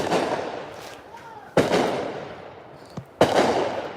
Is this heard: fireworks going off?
yes